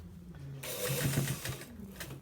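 A sewing machine stitches a designer shirt in a short burst, its fast mechanical hum starting after a brief pause and running close and steady.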